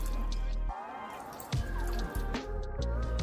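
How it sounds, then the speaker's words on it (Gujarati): A large glass of water is poured into a pressure cooker of washed, soaked rajma kidney beans. The splashing liquid rises in pitch as the pot fills, close and moderately loud, with some talk underneath. "આ એક મોટો ગ્લાસ જેટલું પાણી હું અંદર રેડીશ."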